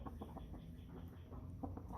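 Chantecler chicken, a winter-hardy dual-purpose breed, clucking in a farm setting with soft, scattered low clucks and a few louder calls over a steady background hum, no talk.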